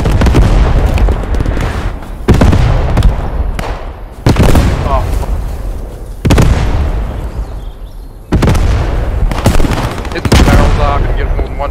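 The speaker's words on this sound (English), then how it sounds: "They mortared themselves" Repeated heavy mortar blasts in the game Post Scriptum, a series of loud booming impacts roughly every two seconds with rumbling decay, mixed with player voices talking over the chaos.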